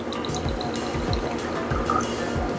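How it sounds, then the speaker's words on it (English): Philippine fruit wine pours into a glass up close: a steady liquid trickle with small splashes and drips that runs for a couple of seconds. "let's pour ourselves a glass now"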